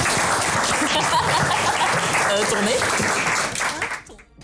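A studio audience at a Halloween evening show applauds loudly and steadily as a guest joins the stage, the clapping fading out at the end while a voice speaks over it.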